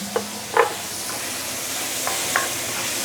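Chopped tomato stirred in a hot sizzling wok while making curry ribs, with a steady soft sizzle and a few faint scraping strokes of the spatula.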